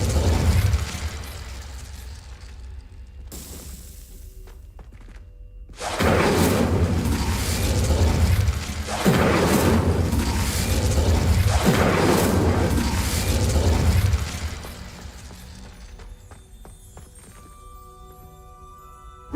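Hogwarts Legacy gameplay with the Incendio fire spell being cast: a burst of deep whooshing booms and crackling surges after a quiet pause, fading into a soft ambient tone.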